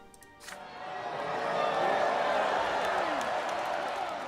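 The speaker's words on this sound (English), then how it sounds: "The parishioners echo Sylvan's cry." A crowd of parishioners in a video game shouts back in unison, a swelling, sustained roar of many voices that builds after a brief quieter start and holds loud to the end.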